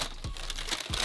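Diadora sneaker packaging with a HighSnobiety sticker being handled and unwrapped: brief close crinkling and rustling of paper or plastic, with a few soft thumps of handling, no talking.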